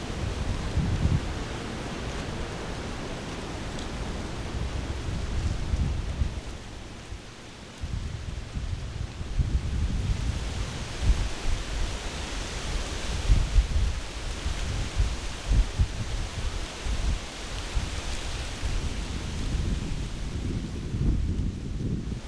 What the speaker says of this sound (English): this wind has just been ripping, just now starting to lay down a little bit finally